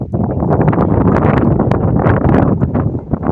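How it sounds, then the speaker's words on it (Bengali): Wind blows over a flooded village river during a boat ride, a loud, rough, continuous rush and buffeting against the microphone with no voices. "কি সুন্দর হাওয়া দিচ্ছে এত সুন্দর হাওয়া মন প্রাণ শান্ত স্নিগ্ধ হয়ে গেছে"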